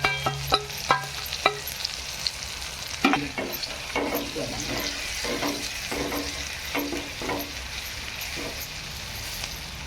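Spices fry in hot oil as a spoon stirs them, with sharp clicks and scrapes over a continuous crackling sizzle that builds and holds close up.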